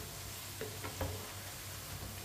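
Potato pakoras fry in hot oil with a soft, steady sizzle and a few light stirring or turning clinks; quiet and continuous with no talking.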